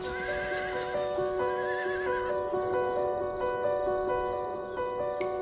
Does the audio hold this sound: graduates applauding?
no